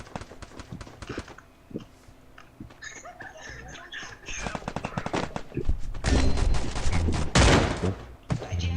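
Rapid bursts of gunfire in Free Fire on an emulator, sharp repeated shots building into heavy sustained firing, with people talking excitedly over it.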